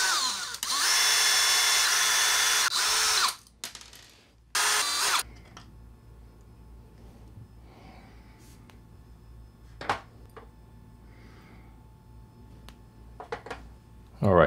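A high-pitched power tool buzzes steadily for about three seconds, then a brief second burst follows before quiet clicks and faint handling sounds.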